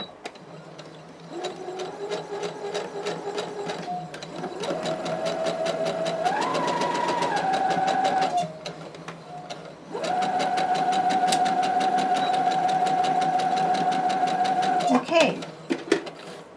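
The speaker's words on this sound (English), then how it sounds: "We're going to sew on this line." A sewing machine stitches along a seam in fabric for a basket box, whirring steadily and close in two long continuous runs, its pitch shifting slightly as the speed changes, with a brief stop between them.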